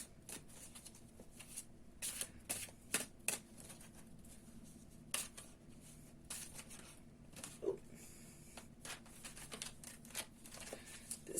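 An Ethereal Visions tarot deck, a little large for the hands, is shuffled in repeated short riffling bursts with soft card slaps between, quiet and close against a faint room hiss.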